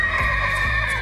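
A hot-blooded, fearless horse breed in India neighs in one brief, loud whinny heard up close.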